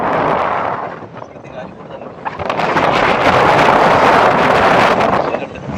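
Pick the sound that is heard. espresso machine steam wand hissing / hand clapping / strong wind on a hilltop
strong wind on a hilltop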